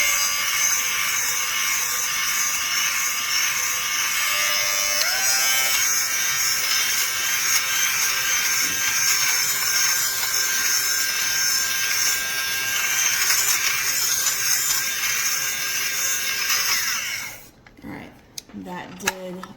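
A cheap electric fabric shaver runs on clothing to remove lint, giving a steady, close, high-pitched motor whir that shifts pitch partway through and cuts off near the end, with rustling after it stops.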